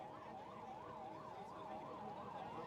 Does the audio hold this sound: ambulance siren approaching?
yes